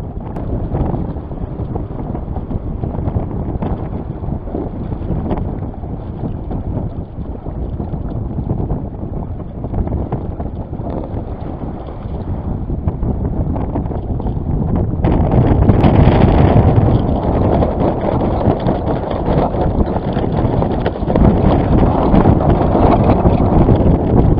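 Steady wind roars across an open microphone on a small lake while sailing, a broad rushing noise that strengthens and gusts harder partway through.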